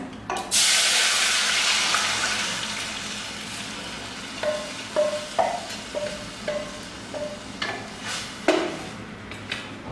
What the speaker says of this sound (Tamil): கரைச்சி வச்சுருக்க ரசத்தை ஊற்ற போகிறேன்